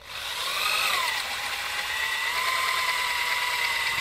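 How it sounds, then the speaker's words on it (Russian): An old Soviet electric drill whines continuously at a high pitch, dipping slightly as it bites into a tree stump, steady and close. "Взял самую старую, самую советскую дрель, поставил это же сверло и продолжаем сверлить."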